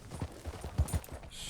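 Horse hooves clip-clop in a game, a few quick soft beats heard close with no talk over them.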